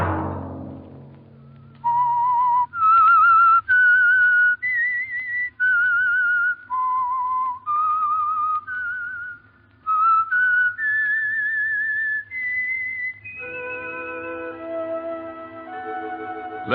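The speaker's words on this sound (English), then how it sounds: "Let that whistle be your signal for the Signal Oil program, The Whistler" A melodic theme whistled solo for The Whistler radio drama, a clear, steady tune of held and sliding notes over a faint low hum, ending as a bright sustained chord swells in.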